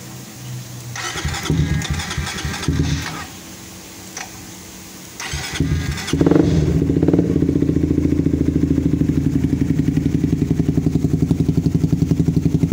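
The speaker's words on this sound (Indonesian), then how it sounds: "Kita cek suara knalpot." A Suzuki GSX-R 150 sport motorcycle with a locally made aftermarket exhaust cranks a few times, fires up around midway and settles into a steady, close, rhythmic idle burble.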